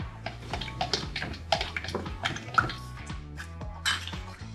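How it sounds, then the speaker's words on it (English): A spoon stirs pigment into a water-based casting fluid in a container, making quick irregular clinks and scrapes against the sides, close and fairly clear, with faint music behind. "give it a stir now"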